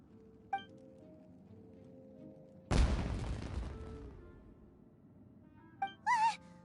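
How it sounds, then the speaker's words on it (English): Fireworks explode in the video game Genshin Impact: one loud, crackling burst hits suddenly and rolls on for over a second, between quiet game tones and chimes. "It sounded like fireworks."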